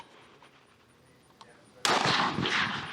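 A rifle bullet strikes a steel target at an outdoor range, a single loud, sharp metallic impact that breaks abruptly out of a quiet background and then rings and decays with noisy wash over the final second.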